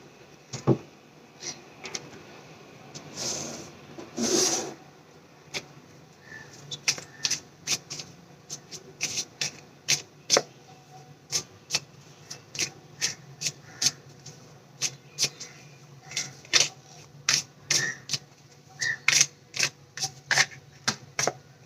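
Tarot cards being shuffled by hand, a steady run of crisp rubbing and riffling flicks, close and fairly quiet, with no talk.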